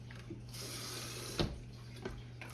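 Quiet water swishes and splashes in a container, with a couple of brief sharper sloshes over a low steady hum.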